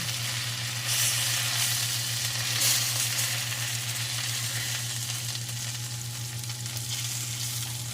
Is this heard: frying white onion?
yes